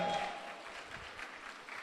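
A church congregation claps together, a broad wash of applause that starts loudest and then settles into a steady, moderately quiet patter heard from within the room.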